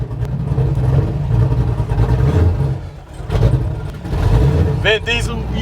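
A 1969 Plymouth Road Runner with a 660 HP engine revs and pulls hard up through the gears, its loud throaty roar rising and falling as shifts break the pull, with a close voice speaking over it.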